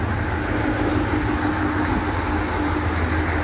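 A suburban train at Stony Point Station, Melbourne, makes a loud steady rumble with low mechanical drone, heard close with no talking.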